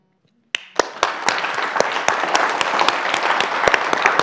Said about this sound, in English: Come on, clap for the change that you want.